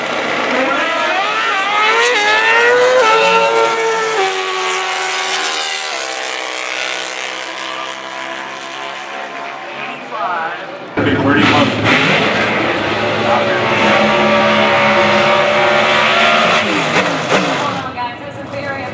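Drag race cars thunder down the strip at the NHRA US Nationals, loud roaring engines sweeping past in two long runs while an announcer talks over them.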